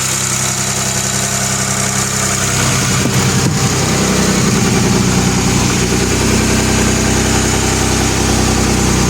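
A repaired Opel Omega B V6 engine idles loudly and close up with a steady, thick rumble, its revs dropping and settling partway through.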